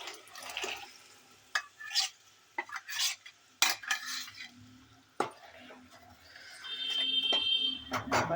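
Ground masala for a vada curry kolambu sizzling and frying in oil, with a spoon stirring and scraping the pan in sharp irregular bursts, then a steadier rising sizzle toward the end.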